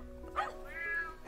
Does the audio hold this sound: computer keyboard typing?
no